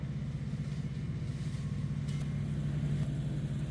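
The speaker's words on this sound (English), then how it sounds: "It started to cut the hedges in the back of the field." A farmer's hedge cutter works in a field, a steady low mechanical drone and engine rumble heard at a distance, continuous and fairly faint with brief sharper clicks partway through.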